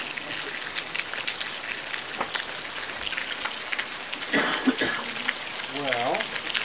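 Steady rain falls and patters on surfaces nearby, a constant hiss of drops, while a person talks briefly over it.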